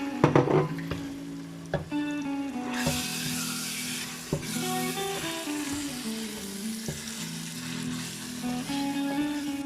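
Fresh cooked tomato hits hot frying oil in a pan for beef in tomato sauce, a steady close sizzle with a few clacks of a utensil and a low hum underneath, no talking.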